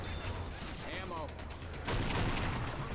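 Gunfire in Half-Life 2's Ravenholm, a steady clatter of shots with metallic mechanical noises, growing louder partway through, with a voice speaking over it.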